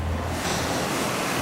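Strong wind and rushing waves surge steadily around a sailing boat at sea in high winds, a dense, loud, continuous wash of wind noise and surf with no voices.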